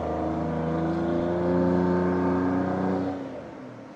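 A Jaguar car stuck in beach sand revs hard for about three seconds, a loud steady engine roar that drops away sharply at the end, with no voices over it.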